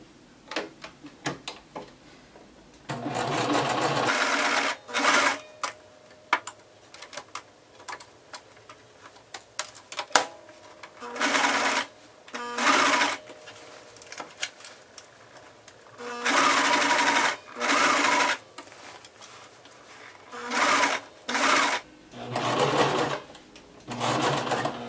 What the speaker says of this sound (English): I'm going to sew down the first line